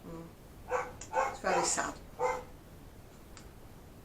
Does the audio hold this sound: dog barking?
yes